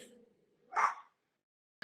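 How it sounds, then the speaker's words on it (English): A single sharp dog bark rings out close by in an otherwise quiet indoor setting, preceded by a brief trailing bit of speech and followed by a short burst of sound at the end. "I'm gonna go on mute now because my dog's gonna keep barking"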